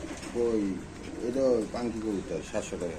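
Pigeons coo over and over at a busy pigeon market, several close birds layering rolling, throaty calls in steady bursts, with a faint background murmur.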